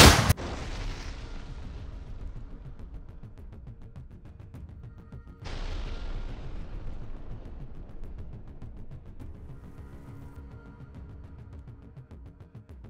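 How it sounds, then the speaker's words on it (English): Two heavy artillery gun shots, each a sharp loud boom followed by a long rumbling decay, spaced about five seconds apart, with no voices. "Орудие! Выстрел!"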